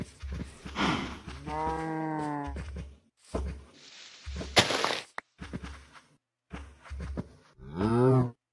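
Several cows moo in a Minecraft-style multiplayer survival game, long tonal calls separated by short pauses, fairly close and alone without talk.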